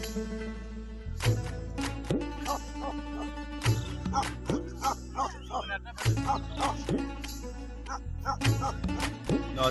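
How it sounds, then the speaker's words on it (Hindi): Bakarwal hunting dogs bark in a nomadic Himalayan tribal camp, sending out repeated loud, sharp barks and yips in irregular bursts across the clip. "इनके पास जो ख़तरनाक शिकारी कुत्ते होते हैं"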